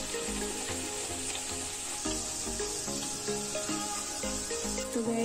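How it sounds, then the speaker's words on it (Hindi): Samosa deep-frying in hot oil while being turned golden on both sides, a steady close sizzle with bubbling crackle running continuously, with some tonal music underneath. "ये देखिए हमारा समोसा बस हो ही चुका है, थोड़ा सा हमें और इसे फ्राई करना है।"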